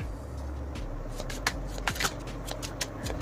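Tarot cards being riffled and shuffled close up, a quick run of soft papery flutters and taps lasting a few seconds, with no talking.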